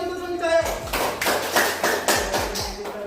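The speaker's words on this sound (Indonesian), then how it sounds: "Tepuk tangan sekali lagi untuk teman kita." In a classroom, students give a short burst of uneven clapping and tapping for a classmate, with scattered hand claps and soft thuds close by and some voices mixed in.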